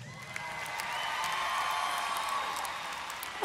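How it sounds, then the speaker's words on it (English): Concert crowd at a Christian music festival's live show clapping and cheering in a steady, sustained wash, with scattered whoops rising over the din. "Give him a round of applause."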